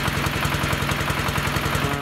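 A Scout T-18 mini tractor engine idles with no load during break-in, a close, steady, rapid chugging pulse that stays even throughout.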